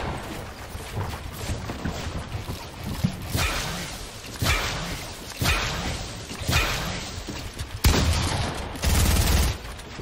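Video game gunfire in several loud bursts separated by short gaps, sharp cracks and rapid volleys close up, with a heavier thumping burst near the end.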